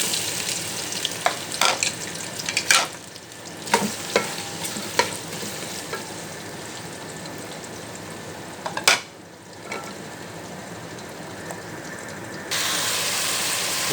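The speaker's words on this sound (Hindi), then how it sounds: "सबसे पहले हमने थोड़ा सा ऑयल डाल के उसमें ये आलू डाल दिए।" Potatoes frying in a little oil for aloo bhujia, a steady close sizzle with intermittent stirring scrapes and clicks of a spoon against the pan, becoming a louder even hiss near the end.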